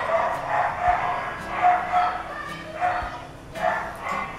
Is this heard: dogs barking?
yes